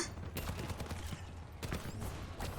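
Gunfire in the Overwatch video game: rapid bursts of automatic weapon shots in a few separate volleys, fairly quiet and close, with no talk over them.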